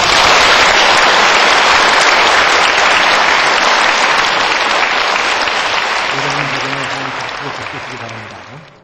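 A church audience claps warmly to welcome an elder and a deaconess onto the stage for a testimony program, a loud, continuous wash of applause that fades out over the last few seconds.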